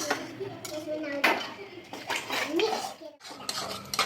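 Beaten egg poured into a pan and mixed, heard as quick metallic scrapes and clatters of a utensil against the pan, close and uneven, with a voice talking over it.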